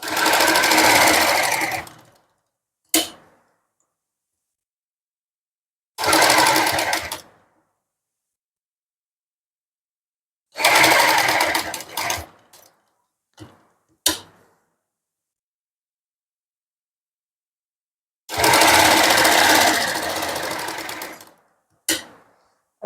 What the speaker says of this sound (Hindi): कहीं से भी सिलाई चला देनी है